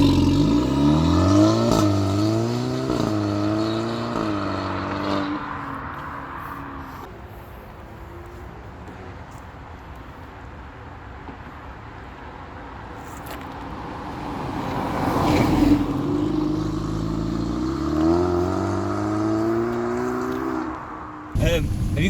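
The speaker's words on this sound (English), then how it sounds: "See, it's got a nice rasp to it when you're driving." A Seat Ibiza FR 200HP with a straight pipe exhaust revs and accelerates on the road, raspy engine note climbing through gears, dropping to a lower drone mid-clip, then rising again.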